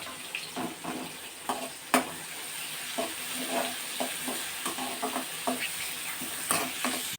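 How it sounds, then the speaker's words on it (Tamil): Onions sauté in oil for an eggplant kulambu. A soft, steady sizzle runs throughout, broken by light, irregular stirring clinks from a spoon against the pan. "பார்த்தீங்கன்னா இது இந்த மாதிரி நல்லா வதங்கணும்."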